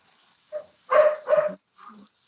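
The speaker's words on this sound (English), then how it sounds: "Oh, dogs come on." A dog gives a few close barks, two loud ones back to back followed by a softer yelp, heard clearly in a quiet room.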